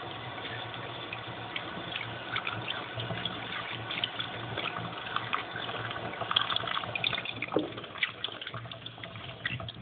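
Water runs steadily from a tap as soap lather is rinsed off hands, a continuous close splashing gush with small irregular spatters, no voices.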